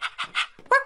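A person imitates a dog during a charades game, letting out three quick yelping barks followed by a higher whining whimper, close and clear.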